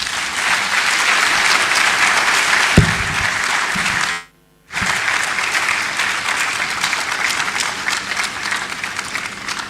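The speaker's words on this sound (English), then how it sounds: "a round of applause for a towering figure in higher education in Africa." An audience at a higher education summit in Ghana gives a round of applause, a steady roar of many hands clapping that cuts out abruptly for a moment before resuming just as full.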